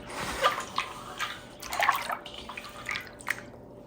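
Water drips and splashes in scattered bursts as leaves are washed for Fante kenkey, with irregular close trickles and small spatters and no talking.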